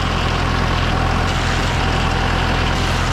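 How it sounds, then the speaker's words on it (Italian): A tractor engine runs at the end of a vineyard row in Italy, giving a loud, steady, close drone with a low rumble that holds unbroken throughout. "allora il trattore fa casino"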